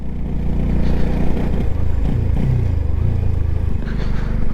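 An NS 200 motorcycle engine chugging and jerking at low speed on a high mountain pass, with uneven low rumbling surges and clatter continuing throughout.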